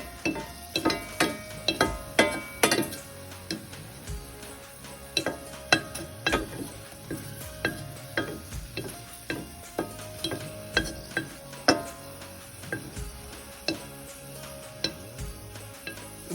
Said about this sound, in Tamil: 1/2 ஸ்பூன் நல்லெண்ணெய் விட்டு அதில் இந்த பூண்டை நான் வதக்கிட்டேன்.